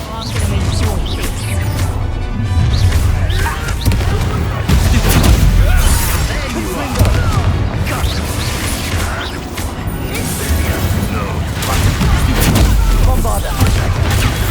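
Bombarda explosion spells go off amid combat in Hogwarts Legacy, with repeated heavy booms and crashing impacts over a dense rumbling din, loud and near, with voices calling out in the fray.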